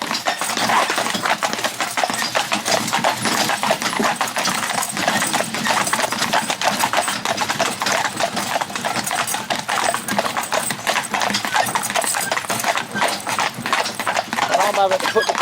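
Horse hooves clip-clop steadily and close as the horse pulls a cart with the brake applied, a continuous rhythmic clatter running throughout while someone talks over it.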